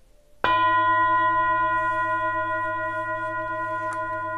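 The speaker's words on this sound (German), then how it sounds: "Ich mache den Gong." A single gong strike rings out sharply, then sustains with a long, shimmering metallic hum that slowly fades.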